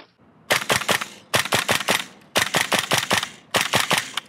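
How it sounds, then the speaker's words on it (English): Cybergun full-metal Colt M4 and FN Herstal M16 gas blowback airsoft rifles fire four close, loud bursts of about four to five sharp shots each, with a snappy bolt-cycling crack on every round and brief pauses between bursts. "the felt recoil, bolt cycling, and sweet music to the ears of a gas blowback rifle in action"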